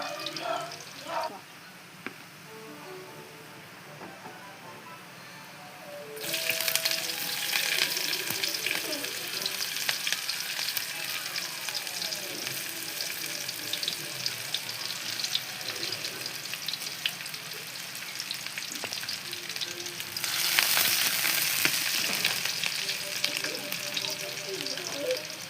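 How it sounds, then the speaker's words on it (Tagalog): Garlic frying golden brown in a pan for Filipino chicken tinola, a close, crackling sizzle with stirring that swells sharply after a quiet start and surges again near the end. "Ipa-golden brown natin yung bawang natin para mas masarap, mas mabango"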